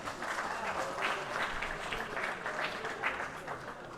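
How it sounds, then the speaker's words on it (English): Audience applause at the World Classic Powerlifting Championships 2021 medal ceremony: sustained crowd clapping in a large hall, moderately distant, with a few louder claps rising out of the steady patter. "Give them a big round of applause."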